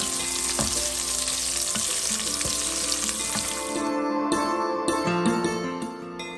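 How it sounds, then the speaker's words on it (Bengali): Fifteen medium-sized prawns frying in oil over medium heat, a loud, busy crackling sizzle with spattering pops, close up and steady, easing slightly toward the end. "চিংড়ি মাছগুলোকে 2 মিনিট সময় নিয়ে মিডিয়াম হিটে ফ্রাই করে তুলে নেব।"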